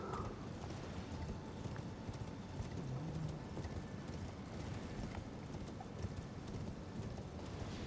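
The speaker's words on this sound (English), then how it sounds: "We can summon our horse." A summoned spectral steed's hooves clop in a rapid rhythm in Elden Ring, quiet and steady beneath faint game ambience, without anyone speaking.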